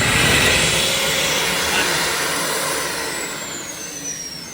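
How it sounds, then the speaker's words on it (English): A small corded vacuum cleaner bought from Screwfix runs steadily at close range with a loud, broad rushing whine. The noise eases slightly toward the end, with no talk over it. "This is a cracking wee hoover."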